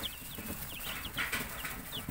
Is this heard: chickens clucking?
yes